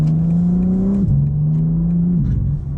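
BMW M4 CSL sports car accelerating hard on a highway, engine note climbing steadily then dropping sharply at two quick upshifts, heard from inside the cabin without talk.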